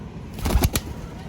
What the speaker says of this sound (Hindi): ये देखें जी, ये इनके तारे वाले कबूतर जो कि सफ़ेद कागजी कबूतर हैं।